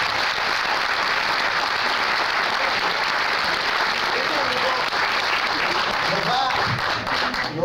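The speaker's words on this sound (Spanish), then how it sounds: "a quien le damos un fuerte aplauso" An audience gives a long, steady round of applause for the conductor of a Chilean cueca ensemble from Quillón, dense clapping throughout with faint voices near the end.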